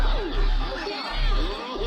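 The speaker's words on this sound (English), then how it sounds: "And all the personalities are cheering for us." A crowd cheers and chatters in Fallout: New Vegas, a dense wash of overlapping excited voices held steady for a couple of seconds with no one speaking over it.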